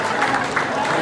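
Audience applause at a company celebration, a dense steady wash of clapping heard briefly and up close.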